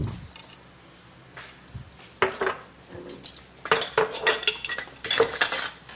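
Walnuts and pumpkin seeds are added to a salad, making scattered clinks, taps and rustles against a bowl that grow busier toward the end, with no talk.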